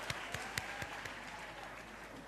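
An audience at a university campus safety programme launch applauds the signing of a pledge, opening with a few sharp, distinct claps that blend into a steady, moderate round of applause.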